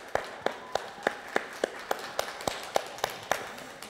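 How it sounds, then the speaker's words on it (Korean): Audience at a Netflix YG Electronics press launch in Korea claps together in a slow, steady unison rhythm, about a dozen evenly spaced beats, moderately loud and clear. "박수 한번 주십시오."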